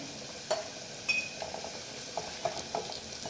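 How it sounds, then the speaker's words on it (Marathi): Red chili powder and garam masala are sautéed in oil in a pan, with a soft, steady low sizzle broken by several light spatula scrapes and taps, fairly quiet and without talk. "चटणी पण तेलावर व्यवस्थित परतून घेऊया"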